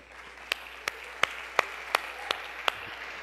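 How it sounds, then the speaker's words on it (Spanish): A church congregation gives a brief scattered round of clapping for first-time visitors, about seven distinct sharp claps standing out over a low murmur of the gathering. "Un aplauso para"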